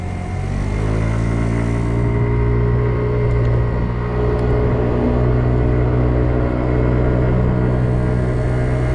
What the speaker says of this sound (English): now I can pull out of my driveway and ride.